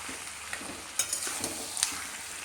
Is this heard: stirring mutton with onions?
yes